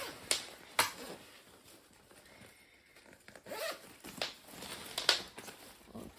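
A Cricut Maker storage bag being unzipped; several quick, close zipper rasps in short bursts, fairly quiet, with small handling sounds in between.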